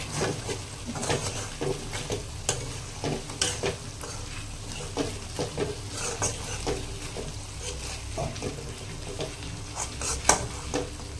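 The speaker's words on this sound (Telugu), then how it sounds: "ఈ వేపిన ముక్కలు వేసేద్దాం." Fried fish pieces are tipped into a sizzling pan of onion masala and stirred, with continuous frying hiss and irregular scraping and clattering of the spoon against the pan, close and fairly loud, with no talking.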